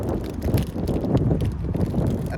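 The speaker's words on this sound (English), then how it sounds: "Sorry about the wind today." Strong gusty wind buffets the microphone beside the Sacramento River on a windy day, producing a continuous rough, rumbling roar with uneven surges and no clear voices.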